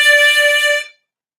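A single harmonica note drawn in through hole 10 for the D, a bright reedy tone held steadily for under a second and then cut off into silence.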